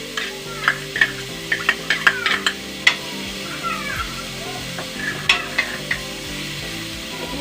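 Boiled fish frying with spices in a pan gives a soft, steady sizzle, broken by several sharp scraping clicks of stirring, close by with no voices.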